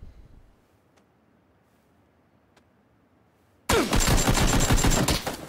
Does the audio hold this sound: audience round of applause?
no